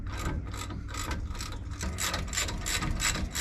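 A ratchet with a 17mm socket undoes the brake caliper carrier bolts on a Mk2 Ford Fiesta, giving a fast, steady run of close metallic clicks in quick repeated strokes for the whole stretch.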